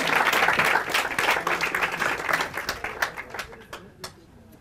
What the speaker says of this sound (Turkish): Alkış yok mu?